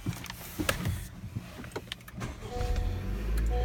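A 2018 Honda Accord Sport is started from the driver's seat, with a brief electric whir and clicks before the engine catches and settles into a steady idle toward the end.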